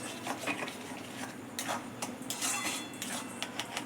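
Kharkol leaf paste, boiled and salted, being stirred in a pan, heard as soft scraping and light clinks of a utensil against the pan in an irregular stream, fairly quiet and close, with no talking.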